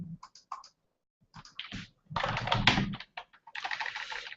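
Computer keyboard typing up close, bursts of quick key clicks separated by short pauses, with a denser run of keystrokes in the middle and end, no talk over it.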